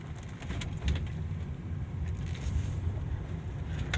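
A 2008 Volvo XC70 drives along a road with a steady, moderate low engine and tyre rumble, heard from inside the car and holding constant with no talking.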